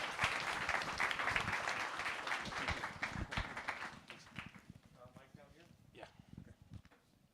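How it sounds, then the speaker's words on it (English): Applause from a conference audience at a Denver tech event, dense clapping for the first few seconds, then thinning into scattered claps with a voice speaking over the tail. "I would like to give a big round of applause to Kyle Samani"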